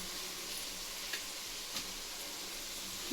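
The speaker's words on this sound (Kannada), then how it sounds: "ನೋಡಿ, ಇದು ಫ್ರೈ ಆಗ್ತಿರಲಿ" Ingredients for avarekalu sambar fry in a pan with a steady, fairly quiet sizzling hiss, broken by a couple of faint ticks or pops.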